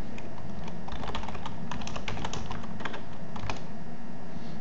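Rapid typing on a computer keyboard while entering Python math-module code, with dense irregular key clicks running steadily throughout, close and clear with no talking.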